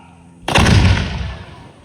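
A single loud, deep boom as a 10-inch mortar launches a human cannonball over a wall, bursting suddenly out of low rumble and then rolling off slowly into a fading echo.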